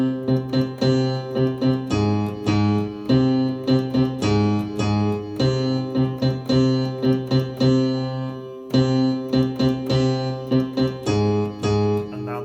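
A tune from Star Wars is played on a keyboard in a simplified arrangement, with single notes in both hands. Its steady, marching rhythm of repeated and held notes stays loud and clear throughout, with no talking.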